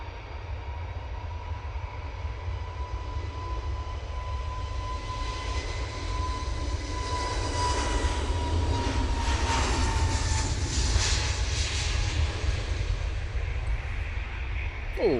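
Jet airliner on the runway at Manchester Airport, a broad roaring rumble that swells gradually from a distance with a thin whine on top.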